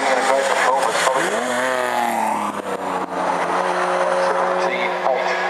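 Race cars lap a circuit, with the number 2 car running consistent 1:17 laps. Loud engine whines rise and fall in pitch as cars pass close by, under a commentator speaking throughout.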